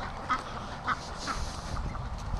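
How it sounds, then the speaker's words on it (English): A large flock of free-range ducks, around fifty or sixty birds, quacks in scattered bursts, with a few louder calls standing out against a steady outdoor background. "maybe 50, 60 ducks"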